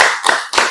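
Rhythmic hand clapping from a group of schoolchildren doing a chant routine in class, two quick sharp claps followed by another burst, close and fairly loud with no talking.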